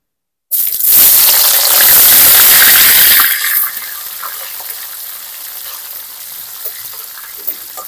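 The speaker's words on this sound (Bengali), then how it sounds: "এখন দিয়ে দেবো পেঁয়াজ কুচি।" Chopped onion dropped into hot oil with whole cumin and whole garam masala for a Bengali-style chicken liver and gizzard curry gives a loud burst of sizzling for about three seconds, then settles into a quieter, steady frying crackle.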